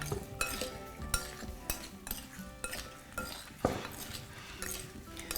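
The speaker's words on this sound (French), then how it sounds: "Donc là, mélangez le tout comme il faut, comme ça." Potatoes being stirred with thyme, garlic and oil in a bowl or pan, with a steady run of close utensil scrapes and clinks against the dish, some louder knocks standing out, and no talking.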